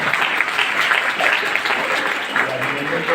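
Students applauding at a college National Youth Day function, a steady, moderately loud patter of many hands clapping throughout, with faint voices underneath.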